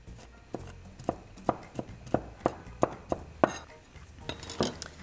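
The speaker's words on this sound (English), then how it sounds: "let's just give them a rough chop" A knife roughly chops toasted golden pine nuts on a cutting board, giving about a dozen sharp, evenly spaced knocks close up, with a faint clatter between strokes and no talking.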